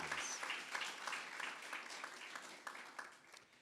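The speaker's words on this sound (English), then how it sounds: "A massive round of applause, please." Faint, distant applause from a graduation ceremony audience, a steady patter of many hands clapping that eases off slightly toward the end.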